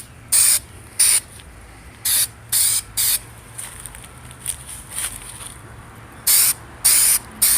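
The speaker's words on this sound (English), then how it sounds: "you just want to mist it on there because it's going to take a couple coats." Spray paint misted in short bursts onto classic VW engine tins, with about nine separate hissing sprays, each roughly half a second, close and loud, and brief quiet gaps between them.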